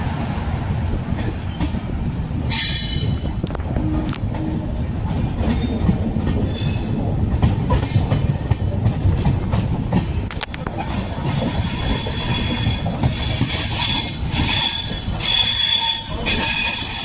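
The Bikaner-Kolkata Pratap Superfast Express rumbles along the rails heading toward Bharatpur, a loud steady roll with wheel clatter and high squeals, heard from inside the moving coach.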